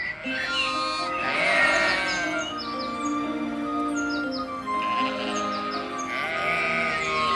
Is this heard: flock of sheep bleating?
yes